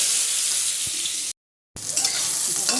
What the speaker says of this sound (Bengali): এবারে আমরা পটলগুলো ছেড়ে দিচ্ছি তেলে।